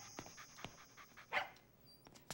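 Cartoon dog panting in a classroom scene, quick soft breathy puffs repeating at a moderate pace, faint and close, with a brief higher whine partway through and no talking.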